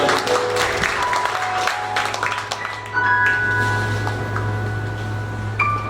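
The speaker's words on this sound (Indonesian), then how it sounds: "Sekali lagi beri tepuk tangan yang meriah" A church congregation at a BCP Manila service applauds, the clapping fairly loud and sustained over a low steady hum, with a few brighter tones and sharper claps scattered through it.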